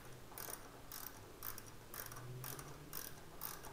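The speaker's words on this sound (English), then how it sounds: "now I begin tightening down all of my clamp bolts that hold the forks into place" A ratchet wrench clicks in repeated bursts while tightening the fork clamp bolts on the triple tree of a Yamaha R1 motorcycle, each bout a quick run of close, crisp ratcheting with short pauses between.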